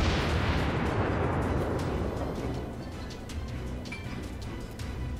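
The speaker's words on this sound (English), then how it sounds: "I get back by firing 2 turrets worth of shots at it and get 2 hits" Battleship turret guns of the Kawachi firing in World of Warships, a loud heavy broadband boom at the start that rolls off into a long decaying rumble, with no voices.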